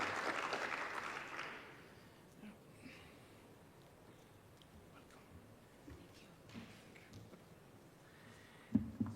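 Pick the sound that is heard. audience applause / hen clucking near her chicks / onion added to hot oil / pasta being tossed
audience applause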